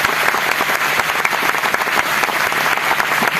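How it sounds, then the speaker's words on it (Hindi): An audience claps continuously, a dense, loud and even patter of many hands filling the whole moment. "आपके सम्मान में कैसी ताली चाहिए?"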